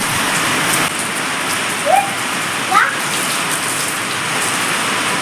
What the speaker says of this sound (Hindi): और बहुत भयंकर बारिश हो रही है